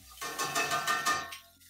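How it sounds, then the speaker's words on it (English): Steady crackling sizzle of pork in a pan with faint clinks, rising and falling in soft bursts for under two seconds, no voices. "just until I see everything sizzle and bubble"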